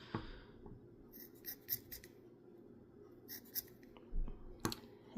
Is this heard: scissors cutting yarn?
yes